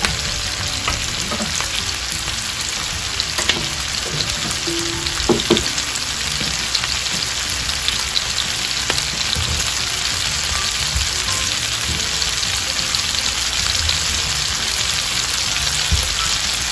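Pork belly fries in a pan as soy sauce goes in, a loud dense sizzle crackling steadily throughout, spattering like rain with scattered pops and occasional utensil scrapes and no talk.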